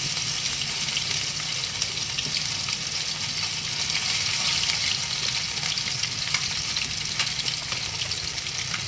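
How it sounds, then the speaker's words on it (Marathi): Marinated fish fries in hot oil over a slow flame, giving a steady, close, continuous sizzle and crackle with no pauses and no voices. "आता तर पॅनमध्ये तेल तापून घेऊया आणि स्लो फ्लेमवर फ्राय करूया."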